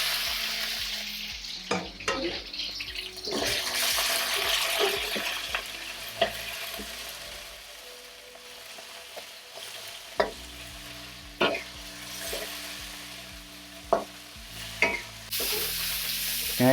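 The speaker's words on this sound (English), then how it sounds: "Drop in the beef." Beef drops into hot oil in a wok and is stir-fried, a loud sizzle and fry hiss that dips briefly, then returns with sharp spatula clanks and scrapes recurring, close up with no talking.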